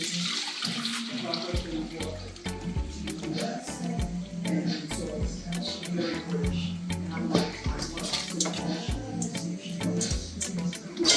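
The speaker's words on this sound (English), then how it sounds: "I've just poured cold water on it." Cold water runs and splashes into a pot of boiled salt fish, with clattering knocks and occasional voices talking nearby in a kitchen.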